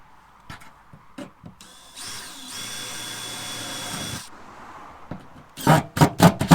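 A cordless drill drives screws into wood while a compost bin is built. A sustained whir of about two seconds is followed by a burst of short, sharp knocks, with scattered handling clatter before it. Everything is close.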